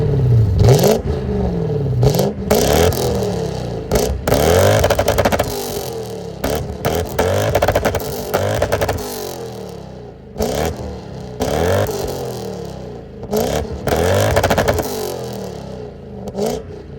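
A 1992 Lexus LS400 V8 with an aftermarket exhaust starts up and revs repeatedly, loud and close, with rising and falling throttle blips and no talking.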